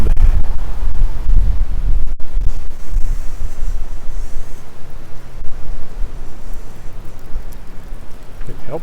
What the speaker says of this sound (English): Because of the wind.